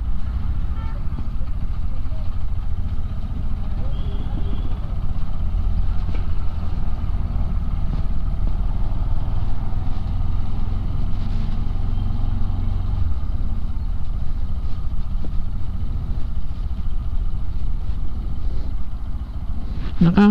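A Bajaj Kawasaki Rouser NS motorcycle rides along with a steady, close engine drone and road rumble throughout, constant loudness with faint occasional clicks, heard from the rider's position.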